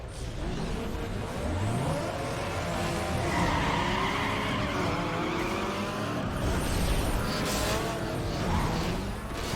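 A car engine over-revs and screams in Need for Speed Underground 2, loud and continuous, with rising and falling engine pitch and tire squeal layered over steady road noise.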